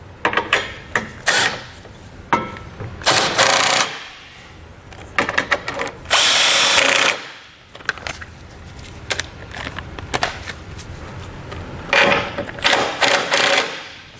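A power tool with a 19mm socket snugs trailer hitch bolts on a 2021 Honda Odyssey, giving several short bursts of whirring and rattling, each a second or two long, separated by quieter clanking work sounds.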